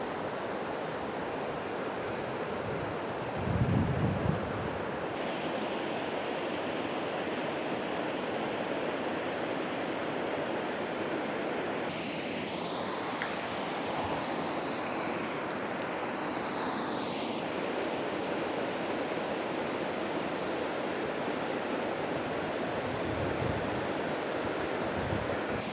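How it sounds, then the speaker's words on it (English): Chapman Falls, a waterfall about 60 feet tall in Devil's Hopyard State Park, roars as a steady broadband wash of falling water, with occasional low wind buffets on the microphone and no voices. "This is Chapman Falls, and this is about a 60-foot tall waterfall."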